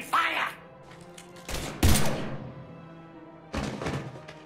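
Gunfire bursts in Mass Effect 3, a few sharp loud volleys with pauses between, the first brief, then two heavy ones close together and a final burst after a lull.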